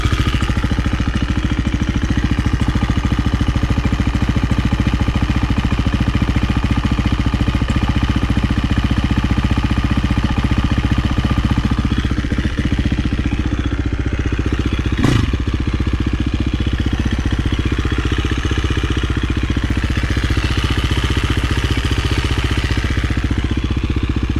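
A KTM 350 dirt bike engine idles steadily and loudly up close, with a low even thrum and light mechanical clatter throughout and one brief sharp knock partway through.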